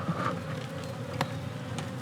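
Honey bees from a package hive buzz in a steady, faint drone, several insects humming close by with no talking.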